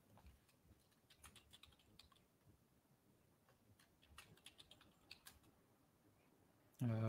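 Rapid, soft keystrokes on a computer keyboard while text is entered in Adobe Illustrator, an irregular patter of faint clicks close by, ending in a louder thump.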